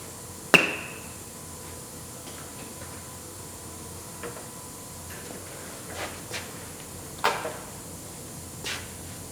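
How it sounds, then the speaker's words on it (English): A new brake job hammer strikes a car window on a rebuilt Terrain: one sharp, loud crack near the start, then several smaller knocks and taps spread over the following seconds, with no talking. "I got a new brake job hammer, so let's give it a try, see if it's a multi-purpose tool."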